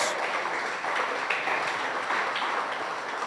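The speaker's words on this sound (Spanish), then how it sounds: "Aplauda el nombre de Dios" A church congregation claps steadily during a pastor's sermon, a dense, even wash of applause at moderate loudness that carries on without a break and with no speech over it.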